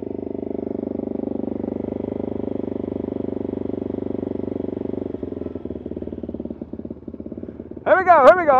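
A BMW GS 1100 motorcycle engine runs steadily at close range, its low throaty drone giving way to uneven clattering pulses before a sharp rise in revs near the end.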